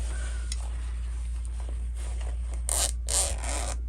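In a quiet room with faint handling noises, a zipper on a small fabric pouch rasps open in two quick pulls near the end.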